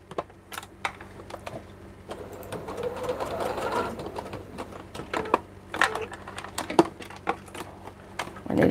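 Sewing machine running in bursts as it stitches an eighth-inch seam closing the raw ends of a small fabric coin purse, the motor whirring with rapid needle clatter between short pauses and a few sharp clicks.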